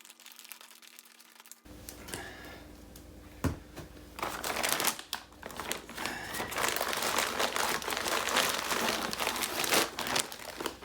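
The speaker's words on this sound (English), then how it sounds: "So let's cut it open and let's have a look what's inside this ration pack." A plastic British Army 24-hour ration pack being cut open and unpacked, with continuous close crinkling and rustling of packaging and a few sharper snaps and tears.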